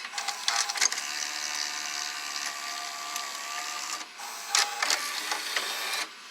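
Toshiba V-S44C Betamax VCR ejecting a tape, a whirring mechanical motor hum with clicks and clunks near the start, a brief pause, then another whir and clunk, close and fairly quiet.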